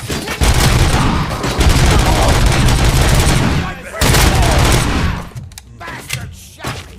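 Dense gunfire in the RoboCop: Rogue City video game, loud sustained bursts of shots and booms filling most of the stretch, breaking off briefly, then resuming before fading into scattered lighter shots near the end.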